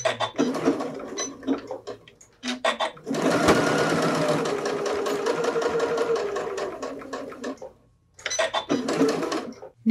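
A sewing machine runs in several bursts while stitching a fabric flower tote, with a long steady run in the middle and shorter starts and stops for back stitching, close and fairly loud.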